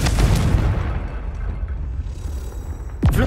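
A fiery Confringo blast spell goes off in Hogwarts Legacy on PS5, a loud booming burst that rolls into a sustained rumble, with a sharp whoosh near the end.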